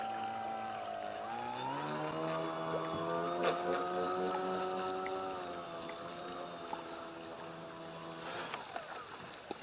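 A Horizon Hobby Apprentice STS RC trainer plane flies into the wind on a first flight. Its electric motor gives a steady, faint whine that rises in pitch early and fades slightly toward the end.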